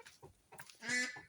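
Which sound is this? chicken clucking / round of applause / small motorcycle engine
chicken clucking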